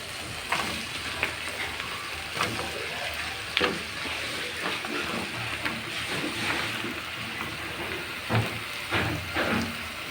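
Bottle gourd pieces fry in spiced turmeric masala for a hilsa fish curry, a constant close sizzle with intermittent clatters and scrapes of stirring in the pan.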